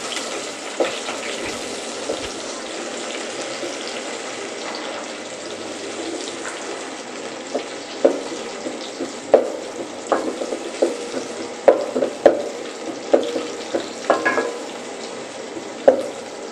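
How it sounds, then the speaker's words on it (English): Onion frying in a hot pan, a steady close sizzle broken by repeated scraping and clicking stirs, with no voices. "Now I'm going to add my onion and I'll allow it to heat until it turns golden"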